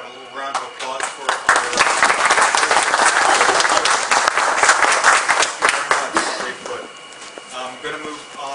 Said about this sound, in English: I'd like to have a little round of applause for